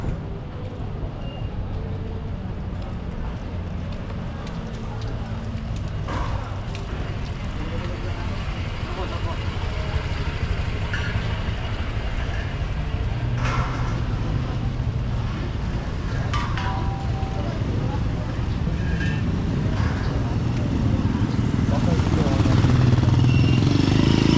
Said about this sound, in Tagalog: Ganda ng makina niya, oh, Yamaha oh.